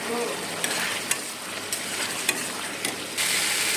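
Spices for a Bengali fish curry fry and get stirred in a pan, a steady sizzle broken by sharp scrapes and clicks of the spoon against the pan.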